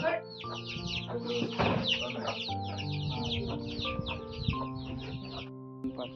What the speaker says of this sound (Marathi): आजीकडे कोंबड्या पाहू शकता आपण